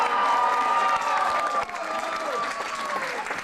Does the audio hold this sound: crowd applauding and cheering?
yes